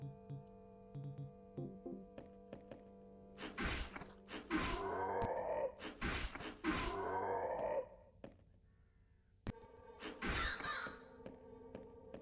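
Several crows caw in the video game House of Necrosis, a cluster of harsh calls in the middle and one more after a short lull, over a steady game backdrop.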